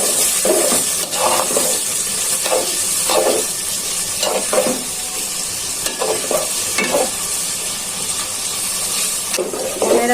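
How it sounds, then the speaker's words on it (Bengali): Onions fry in a pan for beef curry, a loud continuous sizzle broken by repeated scraping strokes of a spatula stirring them every second or so. "পেঁয়াজটা প্রায় ভাজা হয়ে গেছে"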